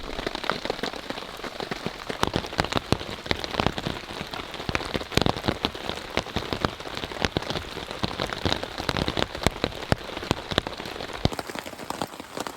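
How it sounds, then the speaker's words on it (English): Steady rain pours down at a hammock camp in the woods, with dense patter and sharper individual drops striking a hard surface throughout, close and fairly loud, no voices. "So it hasn't stopped raining now for about"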